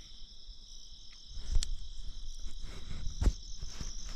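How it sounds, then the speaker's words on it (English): Crickets chirp steadily at night in the bush by the Gibb River Road, a continuous shrill trill with a faint rumbling background and a couple of soft knocks. "with nothing around us but quiet and crickets and frogs and whatever"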